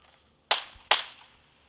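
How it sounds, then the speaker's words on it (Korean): Two sharp, loud cracks about half a second apart, each trailing off in a short echo, with near silence around them. "어디서 총소리가 나는 거야 자꾸"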